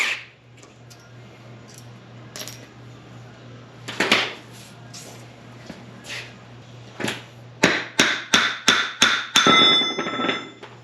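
Metal hammer taps knocking a ring gear off a differential carrier during a Yukon locker install, scattered single strikes early, then a quick run of about six sharp ringing taps near the end over a steady low hum.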